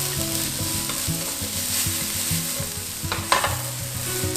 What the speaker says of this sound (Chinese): 我们就放入老姜、金针菇跟香菇，一样也把它煸到金黄。